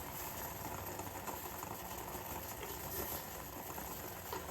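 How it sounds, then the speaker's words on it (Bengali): A pot of ginger, black pepper and clove tea boils quietly on a stove, a faint, steady bubbling hiss with no voices. "এই চাটা ফুটছে"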